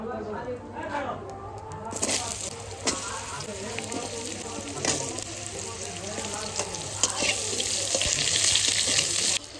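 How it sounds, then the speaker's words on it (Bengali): Potato pieces fry in hot oil in a home kitchen with a dense, bright sizzle that grows louder toward the end, joined by stirring scrapes while people talk in the background. "আলুটা তেলে ভেজে নিচ্ছি"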